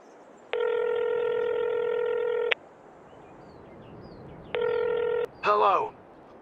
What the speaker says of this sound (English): you know who I'm going to phone? Clive.